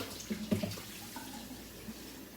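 Kitchen tap water running into a pot, measured out for cooking rice, a soft steady broadband wash with a few faint knocks near the start, heard alone at close range.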